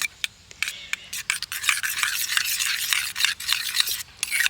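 Garlic and chili flakes being stirred into homemade pizza sauce, close repeated scraping and rubbing strokes of a spoon against the bowl in an uneven rhythm, with no talking.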